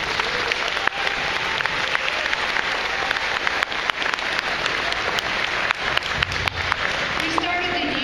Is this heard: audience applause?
yes